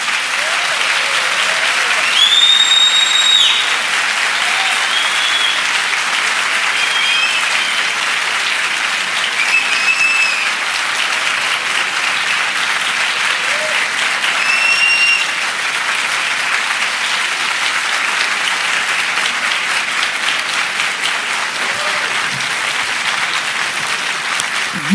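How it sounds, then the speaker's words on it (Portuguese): Sustained audience applause fills a congress hall, steady and loud throughout, with a few faint whistles rising above the clapping. "Os aplausos devem ser dirigidos ao Renato Malcher e a toda a comissão organizadora"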